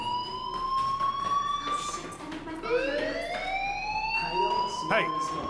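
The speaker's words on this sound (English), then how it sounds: "do you hear that fire alarm? That means you should be outside." Fire alarm in the video game Life is Strange, a steady electronic tone with rising, sweeping pitch glides that loops continuously and loudly for the whole stretch, with faint speech and game noise underneath.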